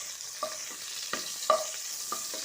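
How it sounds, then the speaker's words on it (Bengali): Five-spice seeds, bay leaf and onion fry in a little oil, a soft steady sizzle broken by a few light stirring scrapes and taps, close and alone. "একটু তেলের মধ্যে দিয়ে দেব 5 ফোড়ন, একটু তেজপাতা আর পেঁয়াজ।"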